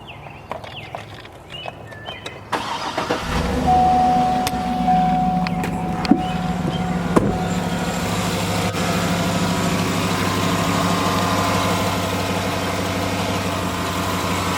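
A 2008 Cadillac Escalade ESV with headers cranks and fires after a few seconds of quiet clicks, then settles into a steady, even idle with a low exhaust rumble, recorded close by.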